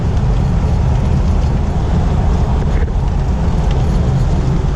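A modified 1998 Jeep Wrangler Sport with 55k miles, driving through all five gears, fills the clip with a loud, steady engine and road roar heard from inside the vehicle.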